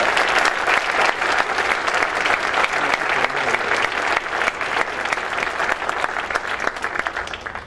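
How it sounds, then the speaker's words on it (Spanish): Sustained, loud audience applause at an environmental cooperation award ceremony, many hands clapping in a dense, even roar that carries on without a break. "Un aplauso muy fuerte para Germinalia."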